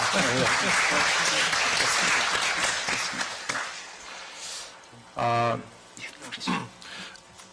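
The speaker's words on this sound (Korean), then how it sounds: "박수 한번 칩시다." An audience at a forum in Seoul applauds loudly for several seconds, the clapping fading out, followed by a few scattered voices.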